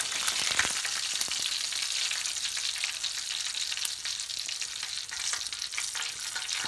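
Salt fish frying in hot oil, a dense continuous sizzle and crackle with occasional sharper pops, steady and close throughout, no talk over it.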